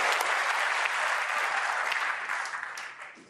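A snooker crowd at the 2023 Masters final between Judd Trump and Mark Williams applauds a potted ball, with dense sustained clapping filling the arena that slowly thins and fades toward the end.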